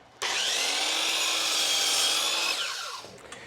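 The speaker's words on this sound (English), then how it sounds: "As you see that blade cut through the material nice and cleanly, that's because it's a very clean, sharp blade." A miter saw with a clean, sharp blade slices through a piece of wood baseboard held against the fence, giving one loud, steady whining cut of about three seconds that fades as the blade spins down.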